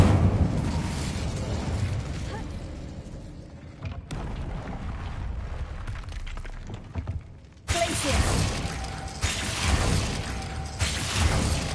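An Incendio fire spell goes off in a game, a rushing burst of noise that rises, dips and surges in again sharply, loud and close.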